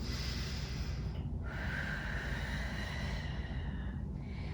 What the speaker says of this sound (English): One more full breath here.